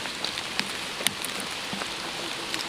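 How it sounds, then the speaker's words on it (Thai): Rain falling outdoors during mushroom foraging in Thai forest, a steady soft patter with a few sharper drop ticks, moderately quiet and continuous without speech. "ฝนตกแล้วครับตอนนี้"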